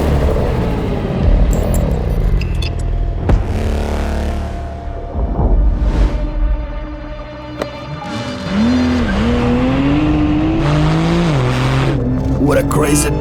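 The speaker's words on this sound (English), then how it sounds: "Right now I want to show you how this car does the launches." A Porsche 911 of the 992 generation makes a launch start: engine revs build, tires squeal and the engine rises through gears, loud and close, with a voice talking over parts of it.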